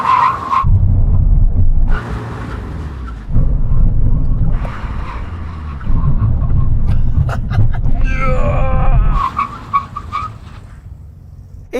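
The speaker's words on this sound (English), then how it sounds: "we're going to have a brake test from 100 kilometers an hour. When we reach the cones, we're going to do a full emergency stop" Several Volkswagen Golf R cars brake hard from 100 km/h in full emergency stops, with repeated loud rumbling runs, tire skids and squeals, each ending in a sudden drop-off.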